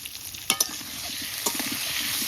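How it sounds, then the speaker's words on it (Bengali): Steady close sizzle of salted potatoes frying in a pan, broken by a few sharp clinks of a spatula stirring. "লবণ দিয়ে আলু ভাজা।"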